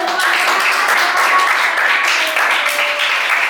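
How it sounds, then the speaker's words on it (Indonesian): Students in a classroom clap for a group that just presented, a dense, loud burst of hands filling the room for several seconds with faint voices mixed in. "Silakan berikan tepuk tangan dong."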